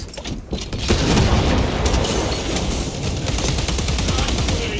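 A rat grenade blast in Warhammer 40K: Space Marine 2 opens a dense, continuous roar of explosions and rapid gunfire in a PvP match, loud and sustained with little break.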